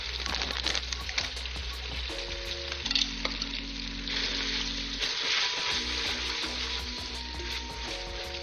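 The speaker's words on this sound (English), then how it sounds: "we're adding a little bit of splash of the pasta water. We're going to toss it around" Garlicky pasta tossed in a hot pan after a splash of pasta water, giving a loud continuous sizzle and frying hiss with stirring and scraping, alone without talk.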